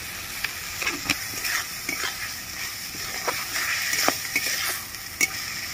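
Ground spices, chopped tomato and salt being sautéed in a pan for a traditional Bengali pointed gourd curry (potoler dalna): a steady sizzle with repeated spatula scrapes and clicks against the pan, close by and without speech.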